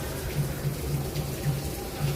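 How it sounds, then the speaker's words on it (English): Rushing water from a rapids sound effect along a trail at Disney's Animal Kingdom forms a steady, moderately soft wash of flowing noise, with faint background murmur. "I kind of hear the sound effects of the rapids"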